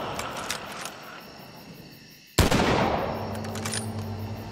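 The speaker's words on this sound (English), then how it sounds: "Come on, let's fire upon these motherfuckers." A sudden loud burst of gunfire in the video game The Walking Dead: Survival Instinct cuts in midway after a quieter stretch of ambient game sound, then fades into a lingering noisy tail.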